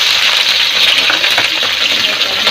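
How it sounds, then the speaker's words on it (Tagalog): Carrots sizzle hard in hot oil for a beef caldereta, a dense, steady crackle with close, popping spatter throughout. "Iprito ko lang yung, carrots, and potato."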